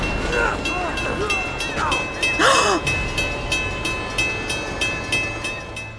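A moving train in the video game Uncharted 2 rumbles and clatters continuously in rhythmic clickety-clack, with a steady high whine, breathy gasps and short vocal sounds over it.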